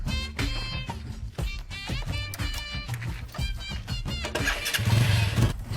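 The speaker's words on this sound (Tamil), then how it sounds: "போடா வண்டி ஸ்டார்ட் பண்ணி காட்டுறா" A motorcycle engine is started with a few stuttering cranks and bursts, then catches and revs up loudly near the end, close by.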